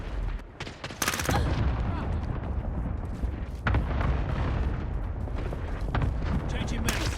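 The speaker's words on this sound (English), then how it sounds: "Allied cluster strike incoming." Cluster strike explosions in Call of Duty: Modern Warfare, a rapid barrage of heavy booms and rumbling blasts, loud and close, mixed with gunfire throughout.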